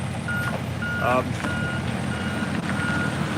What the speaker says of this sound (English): We got a lot of trucks parking here at the entrance, kind of blocking the way.